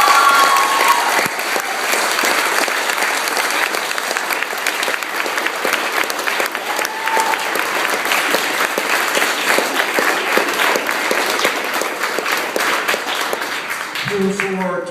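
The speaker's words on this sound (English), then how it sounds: "thunderous applause" Thunderous audience applause fills a hall in honour of a long-serving secretary, a dense sustained wash of many hands clapping for the full stretch before tapering off at the very end.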